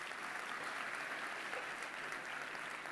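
Audience applause at a large conclave stage event, a steady, dense wash of clapping from a big crowd filling the whole stretch at even loudness, with no talk over it.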